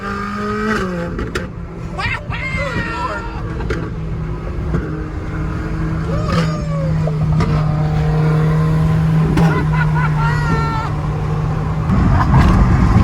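A car engine revs hard at a car meet, sharp rising and falling sweeps climbing toward high RPM and a sustained high-pitched hold, with people talking nearby amid crowd and traffic noise.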